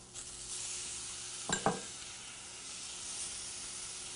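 Peppers and tomato sizzle with a soft, steady hiss in a pan for vegan migas, broken once by a brief stirring scrape partway through.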